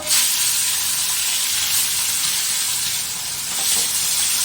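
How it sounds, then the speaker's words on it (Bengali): Shrimp frying lightly in oil in a home kitchen pan, a loud, close, steady sizzle and hiss that swells and dips slightly, with no talking. "চিংড়ি মাছটা হালকা ভাজবো"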